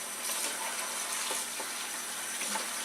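Warm tap water runs steadily over frozen spinach in a kitchen, a soft continuous hiss and splash with no pauses and no voices.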